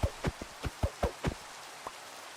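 Rain in the video game Minecraft, heard as a series of soft, close, evenly spaced patters, about eight in quick succession, fairly quiet and with no talking.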